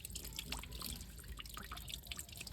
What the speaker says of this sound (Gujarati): જોશો હજી થોડું પાણી આવે છે